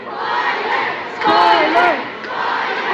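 Live crowd of fans at a Filipino fan event cheering and shouting in unison, a loud sustained roar with a surge of rising chanted cries in the middle, no talk over it.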